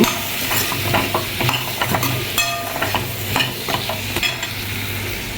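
Eggplant frying in oil for a mixed vegetable dish, a close sizzle broken by frequent metal spatula scrapes and clinks against the pan in an irregular stirring rhythm, no talking.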